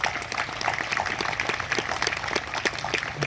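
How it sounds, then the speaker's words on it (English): Audience applause for Wesley Simina, Speaker of the 21st FSM Congress, at Micronesia Community Day in Portland, Oregon: scattered moderate clapping throughout, fairly quiet and steady, without talk over it. "I want to ask us to give him a round of applause"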